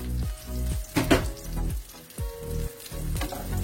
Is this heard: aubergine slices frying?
yes